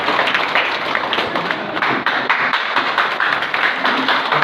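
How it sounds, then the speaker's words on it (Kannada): An audience at a corporate leadership meeting claps steadily and densely, a sustained wash of many hands applauding for several seconds with no voices on top. "ನಿಮ್ಮ ಜೋರಾದ ಚಪ್ಪಾಳೆ ಮೂಲಕ ವಿಜಯ್ ಕುಮಾರ್ ಸರ್ಗೆ ಮೈಕ್ನ ಹ್ಯಾಂಡ್ ಓವರ್ ಮಾಡ್ತೀನಿ"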